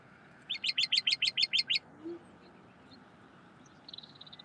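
A bird gives a fast series of about eight sharp, evenly spaced chirps, followed by quieter scattered calls against faint background noise.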